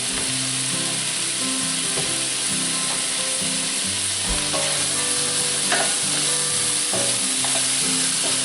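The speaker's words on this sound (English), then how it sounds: "Let these saute so they become more translucent." Smoked kielbasa sautéing in a pot for potato soup gives a steady, close sizzle and frying crackle, broken by occasional stirring scrapes and clinks, with no talking.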